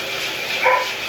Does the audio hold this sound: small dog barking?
yes